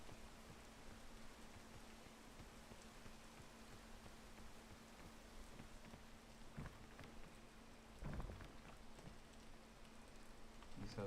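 Steady rain falls throughout a scene in the video game Peak, as a soft, continuous hiss with a few faint pattering drops near the end.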